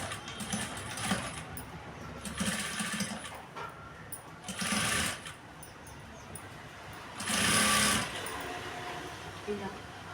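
A sewing machine runs in bursts while stitching the folded-in collar of a size 40 blouse, with loud stretches of steady mechanical whirring separated by quieter pauses and background noise.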